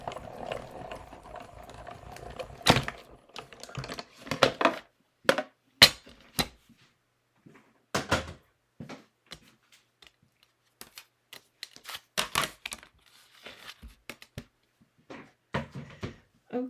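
A greeting card runs through a manual die-cutting and embossing machine with a 3D embossing folder, giving clustered mechanical clicks and ratcheting clacks in irregular bursts, close and fairly loud over a quiet room.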